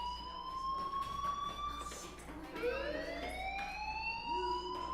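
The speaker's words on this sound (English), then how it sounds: "do you hear that fire alarm?" A wailing alarm from a PlayStation game sweeps up and down in loud rising and falling tones, sustained over steady background noise, with a second wail starting partway through.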